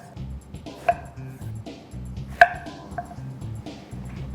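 A few sharp knife strikes slicing unpeeled eggplant on a cutting board, spaced out, close by, with a low background hum and no talking.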